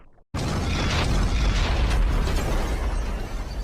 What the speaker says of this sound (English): But then as we were about to give up, something exploded.